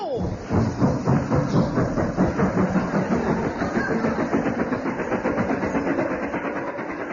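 A comedy chugging train effect stands in for a horse: a steady, loud rhythmic chuffing and rumbling engine with hissing, continuous throughout.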